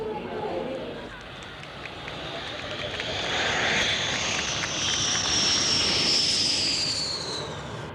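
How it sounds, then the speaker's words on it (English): American F-15 Eagle fighter jets roar overhead with a rising, sustained engine whine that swells loud and then eases, heard under a narrator's voice. "American F-15 Eagles."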